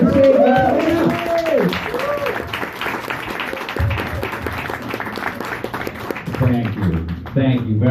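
An audience applauds and claps steadily as a comedian walks on stage. A voice speaks over the applause at the start and again near the end.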